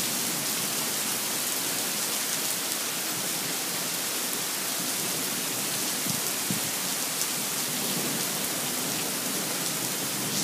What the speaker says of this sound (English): giving us a lot of rain now